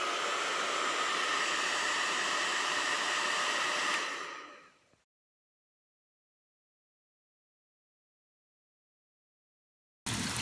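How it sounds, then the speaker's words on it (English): A hairdryer blowing as a Foley stand-in for an airplane, a loud steady whooshing hiss that winds down and cuts out after about four seconds, followed by silence before a brief burst returns at the end. "I used a hairdryer to make it sound like an airplane sound effect like this"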